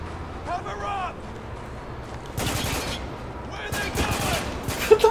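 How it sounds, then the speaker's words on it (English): Bursts of gunfire from the war shooter Spec Ops: The Line, a couple of loud clustered volleys from one direction, with a voice talking briefly before them. "the bullets are coming from one singular direction"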